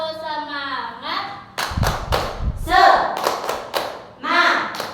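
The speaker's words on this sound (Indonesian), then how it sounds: "Tepuk semangat." Young children in an early-childhood class perform a rhythmic spirit clap, sharp hand claps in a patterned burst between sung and chanted voices, close and lively with kids' speech throughout.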